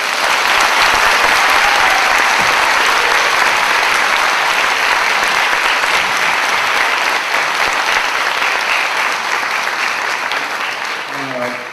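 Warm, sustained applause from a lecture audience fills the hall after a talk on constitutional patriotism by former minister Yoo Si-min, dense and steady throughout, easing slightly toward the end.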